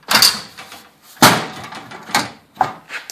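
Metal lockers, restored from corrosion and repainted, with doors swinging open and shut in a few distinct bangs and clatters, close by with short quiet gaps between them.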